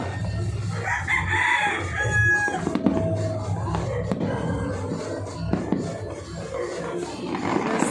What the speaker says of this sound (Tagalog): Mga manok siguro ay.